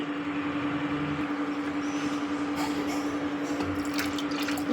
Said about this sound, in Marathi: ग्लासभर पाणी टाकलं बरं का